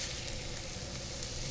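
Food sizzling in a pan on the stove, a steady, dense crackling hiss heard close and continuous.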